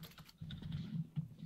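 Computer keyboard typing with a rapid run of key clicks through a short stretch, fairly close and moderately loud, with no talk over it.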